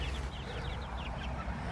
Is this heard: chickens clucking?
yes